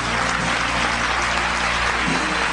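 A church congregation applauding together, a dense, continuous wash of clapping that fills the room at steady strength throughout.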